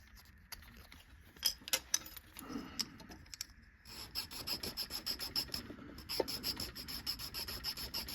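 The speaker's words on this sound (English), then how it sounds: "you just follow it right down the side and just keep chipping away at it until you get back down to the edge" A razor blade scrapes and chips paint off a Hot Wheels die-cast toy car, producing faint, close, irregular scratchy strokes that become a steadier series of small scrapes; no one speaks.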